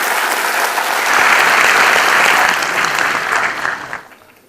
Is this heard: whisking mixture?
no